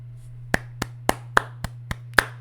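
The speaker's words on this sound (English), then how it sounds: "I just have to give you a clap, man." Seven sharp hand claps at uneven intervals, crisp and close, ring out over a low steady electrical hum with no talking.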